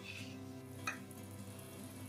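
Milk with sugar, cardamom and saffron simmering in a pan, a soft continuous bubbling hiss with a faint scrape of stirring partway through, quiet and close with a steady hum underneath.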